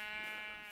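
A sheep bleats in Minecraft, a single drawn-out nasal bleat lasting under a second, clear and close with no talk over it.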